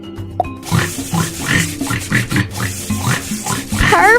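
A cartoon pig oinks in a toddler farm-animal game, a quick series of close, clear grunting snorts in a steady rhythm, with a bright chime near the end.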